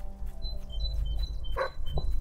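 A dog barks a couple of times, short and fairly close, in the fantasy video game Fable III, over a steady low ambient bed with bright chirping birdsong.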